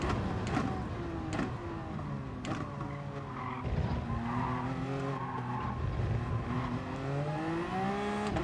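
Race car in the GT Sport video game braking hard with prolonged tire squeal and skidding, rising and falling engine whine over several gear changes, moderately loud and continuous.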